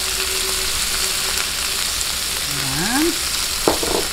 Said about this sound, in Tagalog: gisa lang po natin yung kamatis para talagang magkarsa siya